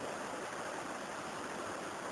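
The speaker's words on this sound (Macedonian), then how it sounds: "водата која што доаѓа од високата планина Даутица" A mountain stream fed by water from high Mount Dautica rushes in a steady, full, close wash of flowing water, with no voices and no break in the sound.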